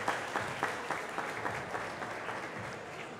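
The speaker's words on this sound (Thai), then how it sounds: "เชิญชวนทุกท่านแสดงความยินดีโดยการปรบมือพร้อมกันอีกครั้งหน" An audience applauds at the opening ceremony of a 2016 Thai national school robot competition: steady, dense hand clapping sustained throughout at moderate level, with a few sharper individual claps standing out rhythmically.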